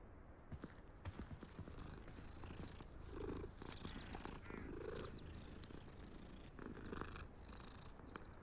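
Continuous soft purring from a cat in a Hogwarts video game, a steady low rumble with faint game music and a few scattered clicks over it.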